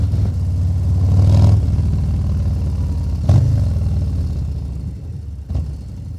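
Harley-Davidson Low Rider ST motorcycle being ridden, its engine a loud, steady low rumble close by with a brief rise in revs and a few bumps, no talking.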